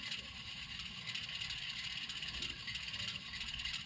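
A New York Central Alco diesel model train locomotive idles with its engine sound running, a steady rough mechanical rumble with a hissing upper layer, continuous and fairly quiet, alone without talk.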